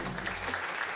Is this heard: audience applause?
yes